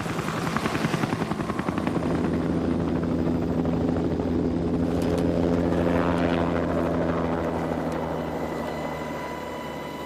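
Helicopters fly in over the jungle toward a camouflaged cocaine lab site. The steady rotor thumping and engine drone swell close and loud, then ease slightly toward the end, with no talking.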